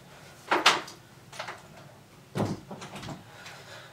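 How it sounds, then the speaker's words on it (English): An indoor door is pushed shut, giving a few quiet clunks and knocks spread over several seconds, with no talking. "Let me just shut the door."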